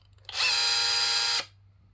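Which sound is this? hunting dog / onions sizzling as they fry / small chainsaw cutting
small chainsaw cutting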